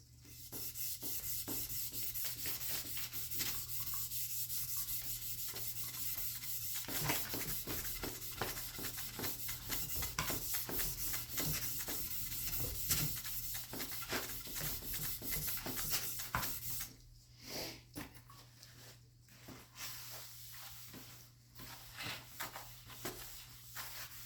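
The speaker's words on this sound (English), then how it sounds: "Get one go over with the Scotch-Brite here." A Scotch-Brite pad scrubs steadily across the base of a Stanley Bailey No. 7 plane under restoration, giving a continuous, close, quiet abrasive rasp with rhythmic strokes and a brief lull near the end.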